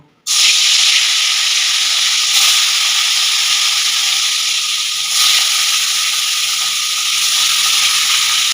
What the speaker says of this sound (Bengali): তেল গরম করে নিয়েছি এবার এক এক করে মাছগুলো ভেজে নেব